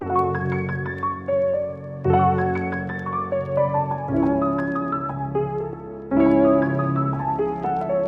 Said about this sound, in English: This is my favorite piano.